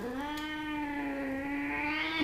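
An old cat with heart failure and chronic cystitis lets out one long, drawn-out plaintive meow at the vet, rising at the end, close and clear.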